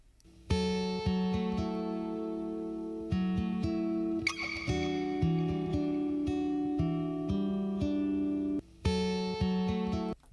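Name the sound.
guitar track played in MPC3 project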